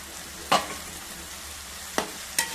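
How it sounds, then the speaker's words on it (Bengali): Shrimp going into a frying pan of soaked spice paste and vegetables: a soft continuous sizzle with three sharp stirring or dropping clatters, one early and two near the end, no voices. "এরপরে আমি দিয়ে দেবো আমার চিংড়ি মাছগুলোকে।"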